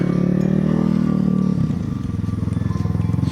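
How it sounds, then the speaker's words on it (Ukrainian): A motorcycle engine rumbles with a deep, steady exhaust note that shifts partway through into a choppier, pulsing idle. "Такий вихлоп у нього добрий."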